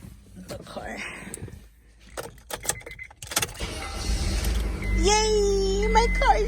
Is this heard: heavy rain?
no